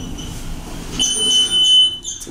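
A high electronic beep tone from an MEI hydraulic elevator in Chicago sounds briefly amid a faint mechanical hum, close and fairly loud.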